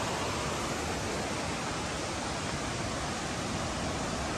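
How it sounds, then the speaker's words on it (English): Waterfall on Enlow Creek in the Great Smoky Mountains, a steady, dense roar of falling water rushing continuously and loudly with no other sounds. "there's a waterfall that would not be good to go over if you had to ford the creek."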